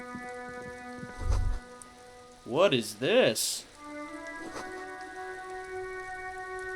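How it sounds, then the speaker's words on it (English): Steady rain falling over the rainy city of Revachol in the video game Disco Elysium, a soft continuous wash running through the whole stretch, with a voice briefly speaking over it and short musical tones. "All around you, rain falls on the great city of Revachol. Rain drips from the eaves and floods the gutters"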